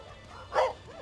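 A dog at a Costa Rican dog shelter gives a single short, close bark or yip over faint background noise.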